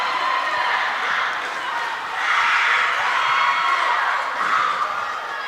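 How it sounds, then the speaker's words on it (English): Dense, steady roar of a rowdy volleyball crowd in a Summertown school gym, many voices shouting and cheering together at close range and swelling slightly midway. "Crowd's got a little rowdy here in Summertown."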